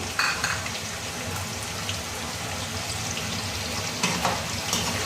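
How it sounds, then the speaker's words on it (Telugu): Chopped garlic frying in hot oil for a spicy mutton pickle, a steady close crackling sizzle with occasional sharper pops, running alone without talk. "ఇది కొంచెం గోల్డెన్ బ్రౌన్ అయ్యే వరకు మనం వేయించుకున్నాము"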